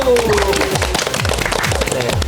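Loud, steady clapping greets the quiz winner in a studio discussion show, with bright musical tones ringing over the dense patter of hands.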